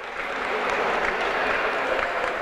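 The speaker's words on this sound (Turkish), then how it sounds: "Evet, arkadaşlar bugün ikramlarından dolayı Kahve Deryası'na bir alkış rica ediyorum." Applause from a crowd gathered for a teachers' league event, thanking the Kahve Deryası café for its refreshments; steady, dense clapping fills the whole stretch at an even level with no break.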